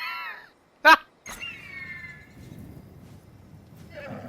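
A horse in the video game Immortals: Fenyx Rising gives a whinnying neigh, a short harmonic call at the start followed by a sharp burst and a longer falling whinny, fairly close and clear over quiet game ambience.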